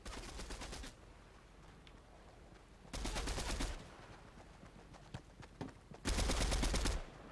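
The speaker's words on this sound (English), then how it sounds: "Why are you shooting me?" Rapid automatic gunfire in a video game, probably Fortnite, coming in three loud bursts of about a second each, separated by quieter gaps with scattered faint shots.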